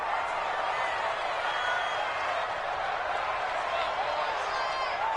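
Stadium crowd noise from a video game football broadcast, a steady broad roar of fans cheering throughout, with a commentator's voice faintly mixed in.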